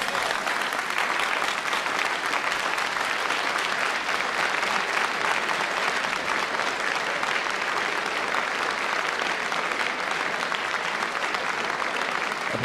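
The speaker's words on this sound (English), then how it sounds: "Applause for Mrs. Barbara Castle from this apparently overwhelmingly pro-common market Oxford Union audience" A large Oxford Union debating-hall audience applauds a speech on Britain's place in the EEC in 1975, with dense, steady clapping that continues without a break and with no speech over it.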